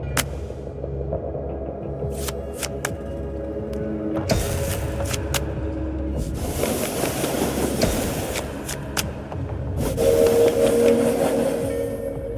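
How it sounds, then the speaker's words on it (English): Train rumble from the video game Blackjacket, a steady low throbbing hum with rolling mechanical clatter and sharp clicks that swells toward the end, with no one talking. "It's a train! It goes choo-choo!"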